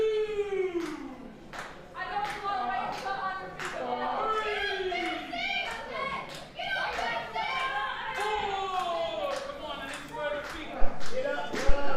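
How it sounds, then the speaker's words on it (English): Rhythmic clapping from a wrestling crowd rallying behind the wrestlers, sharp regular hand claps mixed with excited cheering and children's voices, with a couple of louder thumps near the end. "Crowd rallying behind."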